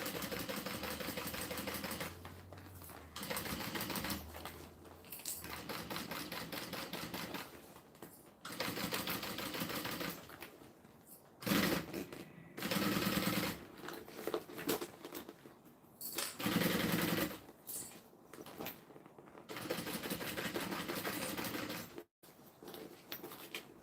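Sewing machine stitching slowly around curves, its rapid mechanical whir running in bursts separated by brief pauses as the fabric is guided, close and steady with no talk.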